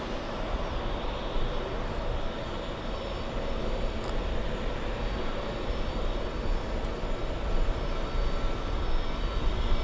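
An airplane passing overhead near a lounge: a continuous, loud, broadband engine roar that holds steady and swells slightly toward the end, with no talk.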